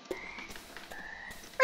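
A frog croaking in the video game FurQuest, a couple of short, clear synthetic croak calls in quick succession, close and fairly quiet with no talk.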